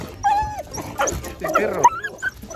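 A dog whimpers and gives short yips and barks while out on a walk outdoors, close and fairly loud, with a person speaking softly underneath.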